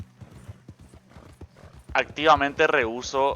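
Horse hooves clop steadily on the ground in Red Dead Redemption 2, a brisk rhythmic walk heard clearly at first, then a voice talks over the continuing hoofbeats.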